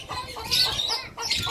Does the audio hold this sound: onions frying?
no